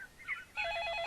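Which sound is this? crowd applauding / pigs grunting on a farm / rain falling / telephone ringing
telephone ringing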